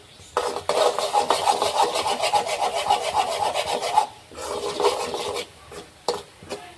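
Khova thickening in a pan is stirred and scraped without pause, giving a steady rasping scrape for about four seconds, then shorter scraping strokes after a brief gap, with no talking.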